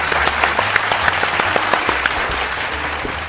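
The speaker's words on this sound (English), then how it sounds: "Boys and girls, give us a big round of applause for Ranger Rick and Wax On." Boys and girls in an audience clap for Ranger Rick and Wax On, a steady patter of hand claps with distinct individual claps over a low hum, no voices.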